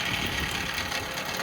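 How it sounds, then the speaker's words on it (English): A 2005 Toyota Camry police auction car idles steadily nearby, its engine giving a constant, even hum with no break and no voices. "Engine sounds pretty strong."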